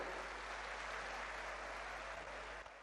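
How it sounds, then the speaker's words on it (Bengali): Audience at a political rally in West Bengal applauds, a faint, steady wash of distant clapping that continues evenly and thins slightly at the end. "একবার জোরে হাততালি দিয়ে আপনারা সবাই বরণ করে নেবেন"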